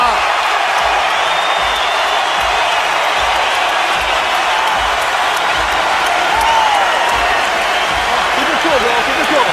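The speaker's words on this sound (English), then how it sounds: "Crawford brings the crowd out of their seats" A dense, roaring boxing crowd in Omaha cheers and applauds loudly and continuously, with rhythmic thumps and faint voices beneath the din.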